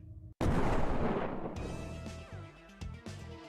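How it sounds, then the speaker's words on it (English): A sudden, heavy explosion sound effect from an audio story bursts in loud and close, then rumbles and decays with scattered debris-like crackles. "another explosion rocks the room"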